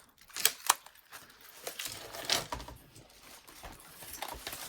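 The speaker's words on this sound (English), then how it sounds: "my cat is in here getting into my trash bag, so that is the noise you hear" Irregular crinkling and rustling of a plastic trash bag as a cat gets into it, with a few sharper crackles, close by and fairly quiet, with no talking.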